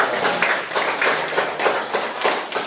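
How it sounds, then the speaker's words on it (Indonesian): A classroom of pupils claps together during a lesson on social norms. The brisk, steady applause is close and loud, with some voices mixed in, lasting a few seconds. "tepuk tangan lagi dong"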